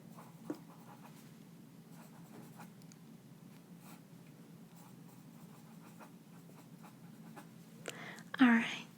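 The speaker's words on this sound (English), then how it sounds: "Let me write that down for room 1." A pen scratching out notes in an interior designer roleplay, soft and close with faint irregular strokes, ending in a brief louder rustle.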